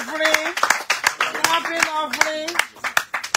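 Audience clapping at a gathering, a quick uneven burst of hand claps heard close alongside a voice speaking over the top.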